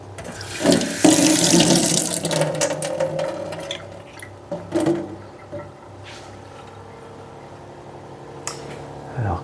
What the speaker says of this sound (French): On va commencer par l'eau du robinet.